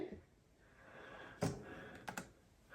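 A few scattered key taps and clicks on a 2017 12-inch MacBook keyboard, one louder cluster in the middle, then a quick double tap, over a quiet background hum.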